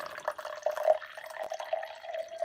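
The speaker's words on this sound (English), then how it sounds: "We're going to pour it in the cup." Liquid trickles and splashes as a homemade sea moss drink is poured into a cup, a thin steady pouring stream with small drips, faint and close, with no talking.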